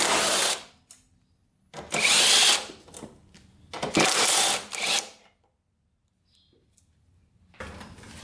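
A power tool, apparently a drill or impact driver, removing bolts from a Kawasaki Ninja sport bike bought cheaply: three loud, sustained whirring bursts with quiet gaps between them, then a softer burst at the end, close by with no talking.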